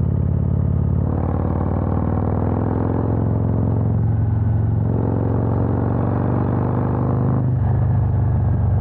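A 2020 Harley-Davidson Road Glide Special with upgraded suspension is ridden, its engine a steady, loud low rumble throughout, with wind and road noise rising and falling over it.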